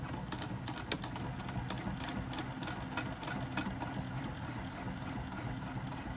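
A sewing machine runs steadily, stitching a 1/4 inch seam with a 2.5 stitch length on a lined box-bottom zipper pouch, a continuous close mechanical whir with rapid needle ticks and no pauses.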